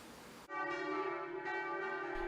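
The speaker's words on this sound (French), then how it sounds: "Les cloches sonnent, il est 10h." Church bells ring out at ten o'clock for a centenary war memorial commemoration in Demange, a sustained, resonant peal with rich overlapping tones beginning abruptly and carrying steadily, with no talking.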